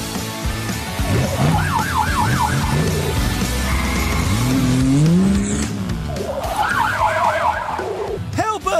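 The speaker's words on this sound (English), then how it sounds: "we'll need Marshall's possum transforming fire truck for this mission" In a PAW Patrol cartoon, a possum-transforming fire truck's siren wails in rising and falling sweeps, loud and close, along with engine noise and a brief squeal of tires.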